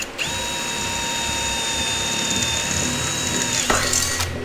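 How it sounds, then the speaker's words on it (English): A power drill whines steadily through metal for several seconds, then cuts off with a brief clank. "So you drill a hole and then you weld."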